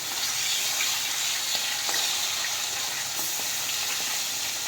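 A dried red chili and mustard seeds fry in oil that is not yet fully hot, giving a soft, even sizzle with faint crackles and light pan sounds throughout.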